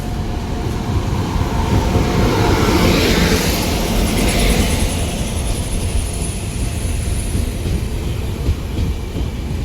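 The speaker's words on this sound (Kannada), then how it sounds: "ಗೈಸ್ ಕೊನೆಗೂ ನಮ್ಮ ಟ್ರೈನ್ ಬಂದೇ ಬಿಡ್ತು" A train pulling into a station: a loud, broad rumbling roar of wheels and engine close by, with a rising hiss sweeping across the middle, sustained without pause for nearly ten seconds.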